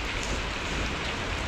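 Steady rain pouring down on a wet day's bicycle commute, a dense, even hiss of drops spattering on surfaces close by, with no voices.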